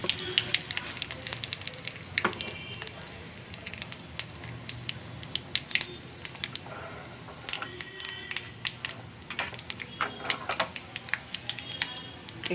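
Curry leaf sprigs hit hot oil with cumin and urad dal for a tempering for buttermilk rasam, giving steady sparse crackling and spattering pops up close, with no talk.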